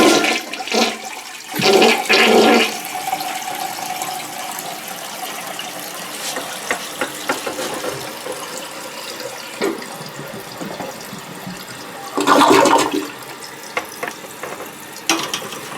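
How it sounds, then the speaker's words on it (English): A household toilet, just repaired after constantly running water, flushes with a loud gushing surge and then refills with a softer steady trickle and hiss, close by, with two more brief water bursts later. "let's flush and see how it works out."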